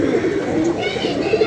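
Pigeons cooing close by, a continuous soft throaty coo over about a second and a half, fairly loud and alone.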